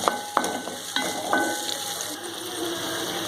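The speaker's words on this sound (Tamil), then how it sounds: "ஒரு 2 நிமிஷம் நல்லா வதக்கி விட்டுக்கோங்க" Onions sauté in a pan for vallarai keerai chutney, giving a close, steady sizzle marked by a few sharp metallic scrapes and clicks of the spatula early on before the frying settles into an even hiss.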